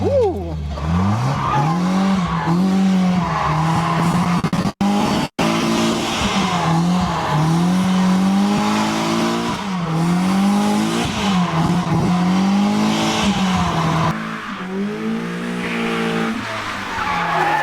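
A race car skids continuously, its tires squealing and wavering loudly over the engine for a long stretch, with a couple of sharp breaks and a brief drop near the end.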